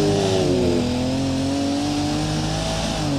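A car engine in BeamNG.drive revs hard and steady, a loud, sustained drone that climbs slightly in pitch with no talk over it.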